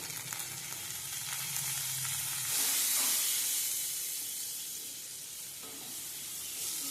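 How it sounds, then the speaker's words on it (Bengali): Mango pieces with turmeric are lightly fried in a pan for a mango chutney, giving a steady, close sizzle with a hissing surge midway and no voices. "আমগুলোকে সামান্য একটুখানি মানে হালকাভাবে হালকা একটু ভেজে নেব এতে দিয়ে দেব সামান্য পরিমাণে হলুদ"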